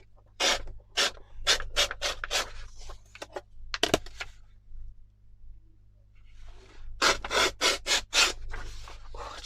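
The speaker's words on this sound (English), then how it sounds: "Just tear that white edge off." Paper is torn for a junk journal collage, producing several sharp, close ripping bursts in quick succession, then a pause with a faint rustle and another run of short tearing strokes.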